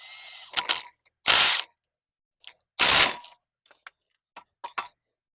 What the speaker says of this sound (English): We're gonna tighten that 40mm bolt right here to show you what happens